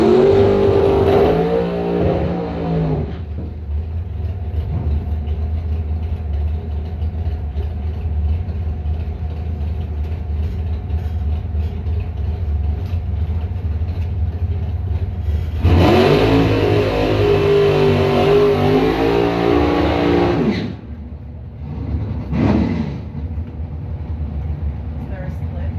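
Drag racing cars at a bracket final, including a 64 Chevy II, rev loudly and accelerate with rising engine pitch, roaring close by in bursts over a steady idle rumble while an announcer talks over them.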